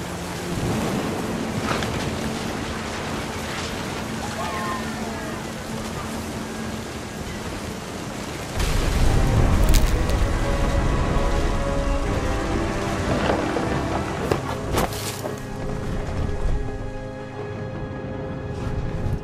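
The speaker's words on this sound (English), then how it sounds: "Thunder sounded much too close and full of angry power." Steady heavy rain hisses through a thunderstorm as a loud, close thunderclap booms and rumbles through the middle, with further crackling rolls near the end.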